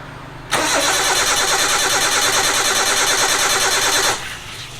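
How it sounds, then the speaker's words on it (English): A car engine, just fitted with new injectors and engine mounts, cranks and catches, then runs at a steady, loud idle for several seconds before cutting off abruptly. "Alright then, let's start the engine."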